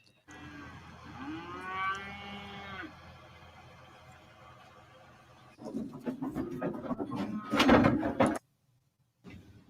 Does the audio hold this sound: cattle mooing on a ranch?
yes